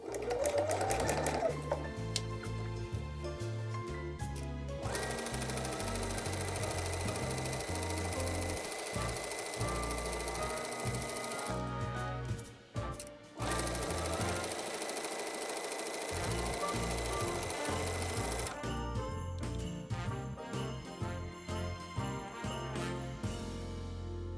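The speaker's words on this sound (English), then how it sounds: "I'm just going to take it to the machine and sew" A sewing machine stitches patchwork fabric pieces for a snowman quilt block, running in several long bursts of steady mechanical whirring with brief pauses between seams, close and clear with no talking.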